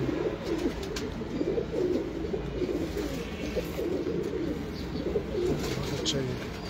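Pigeons in a home loft coo softly and repeatedly, low rolling calls heard fairly close amid a busy background, with someone talking intermittently over them.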